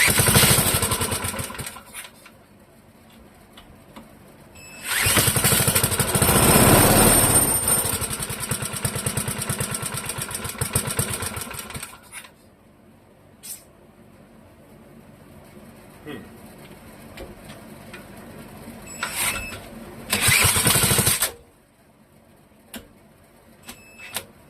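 A Clinton model 3100 small engine runs at a raised idle, its buzzing drone swelling in two loud bursts as the throttle comes up, with quieter uneven running and clicks in between.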